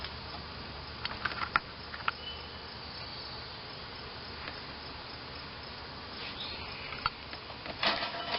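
Bees hum around an open hive with the queen inside, a faint continuous drone with occasional close passes and light knocks, no talk.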